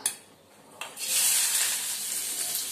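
Chopped onion added with asafoetida to two spoonfuls of hot oil, a sharp hiss that rises after a soft clink and then holds as a steady, close sizzle.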